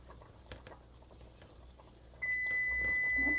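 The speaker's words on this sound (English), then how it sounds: "There's my timer." A kitchen oven timer goes off with a steady, continuous electronic beep that starts partway through, heard over kitchen stirring and clatter.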